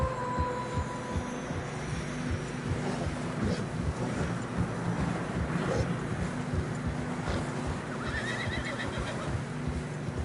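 Video game horses walk through fresh snow in a steady wash of wind noise, with a whinny and soft muffled hoof sounds under the roar of gusting weather.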